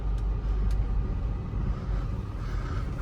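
An Audi A6 coming out of six years of storage, driven around the block with a steady, loud low engine and road rumble filling the cabin throughout, no voices.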